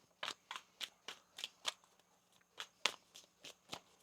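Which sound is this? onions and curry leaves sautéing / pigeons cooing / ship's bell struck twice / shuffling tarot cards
shuffling tarot cards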